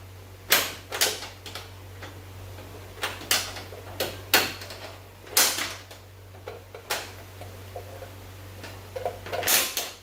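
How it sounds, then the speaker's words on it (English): A series of crisp mechanical clicks and latch snaps from a Fox-body Ford Mustang door latch, some in quick pairs, spaced irregularly over a low steady hum. "Make sure you get it all 2 clicks."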